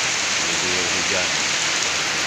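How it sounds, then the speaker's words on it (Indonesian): Heavy rain pours down in Tembilahan, a dense, loud, unbroken hiss of drops on surfaces, with faint murmuring voices beneath. "diguyur hujan"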